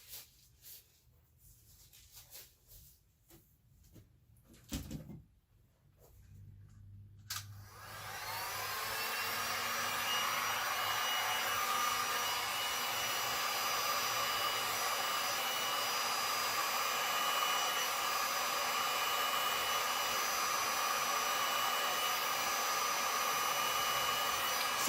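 A blower or hair-dryer-style fan runs steadily and loudly, pushing air over wet resin poured as ocean waves, starting after a few seconds of quieter handling noises and a thump, then holding a continuous whoosh to the end.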